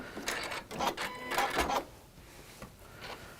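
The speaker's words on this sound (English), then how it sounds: "we're just going to sew into the corner" Sewing machine stitching into a fabric corner: short quiet bursts of rapid mechanical whirring that stop and start, fading to near silence.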